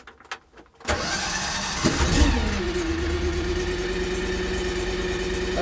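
The small engine on a MachPro MP30 grease and hydraulics system fires up after a few clicks, then settles into a steady, close, loud idle with a constant drone.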